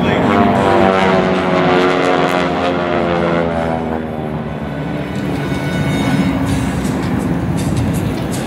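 Team Aeroshell aerobatic planes in diamond formation make a photo pass at the Owensboro air show, a loud, steady droning engine roar with rising and falling harmonic tones that swells and then eases as they pass.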